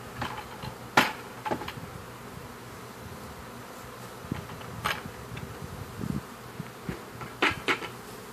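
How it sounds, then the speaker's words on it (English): Honeybees buzz in a steady, dense drone during a hive cut-out removal in Haines City, Florida, with scattered knocks and sharp taps from the work breaking through. No one speaks. "no bees were hurt in the making of this movie"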